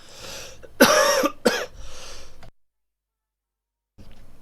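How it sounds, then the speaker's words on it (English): Two or three sharp coughs close to the microphone from a radio host in a studio, followed by a brief breathy tail, then silence before faint sound returns. "I don't know why I'm coughing, but it's apparently happening."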